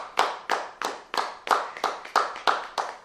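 A church congregation claps in a steady rhythm to acclaim the Lord, about ten crisp, evenly spaced claps at moderate loudness with no voices over them.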